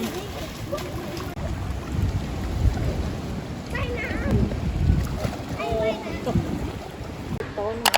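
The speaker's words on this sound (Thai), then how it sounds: "ไปเล่นน้ำกันครับ" Splashing in the sea at Hua Hin on a beach outing, a continuous rough wash of water and wind noise with people's voices calling and chatting over it throughout.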